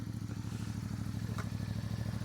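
A CFMOTO 450MT Ibex motorcycle engine revs steadily nearby, a continuous mid-pitched drone with a rapid pulsing throb and faint mechanical clatter, heard alone with no talk.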